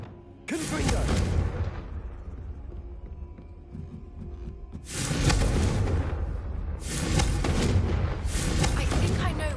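Confringo fire spell blasts in Hogwarts Legacy: two bursts of loud, explosive booming whoosh with rumbling tails, separated by a quieter stretch of ambient game sound.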